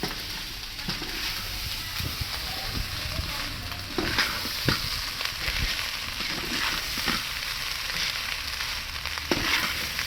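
Cooked rice for egg rice, mixed with lemon juice, fries in a hot pan at home in roadside-stall style. A steady close sizzle runs throughout, broken by frequent scraping stirs and clinks of a spatula.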